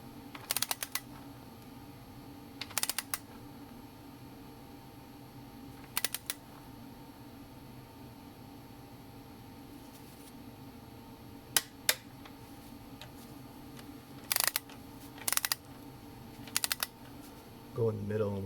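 Bolts on the upper intake manifold of a 2012-2016 Impala with the 3.6 LFX engine are torqued to 18 foot-pounds: sparse, sharp wrench clicks, often in pairs, over a low, steady background hum.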